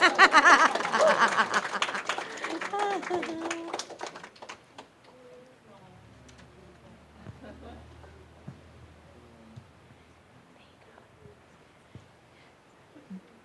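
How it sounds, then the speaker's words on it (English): An audience at a spiritual center gathering in Kauai applauds people called up by name, a dense burst of clapping that is loud at first and dies away within a few seconds, leaving a quiet room with scattered small noises. "you're more than welcome to applause and welcome them"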